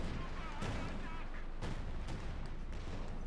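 Heavy artillery bombardment roars through a Company of Heroes 2 match, with dense overlapping booms and blasts forming a loud, continuous barrage and several sharper impacts standing out.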